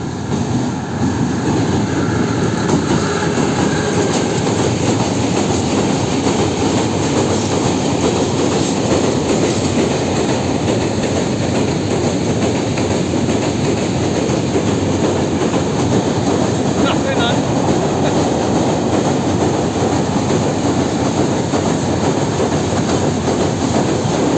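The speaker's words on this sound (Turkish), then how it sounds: "Tren geliyor." A train rumbles past close by, loud and continuous, with rhythmic clattering of wheels on the rails and a faint metallic squeal.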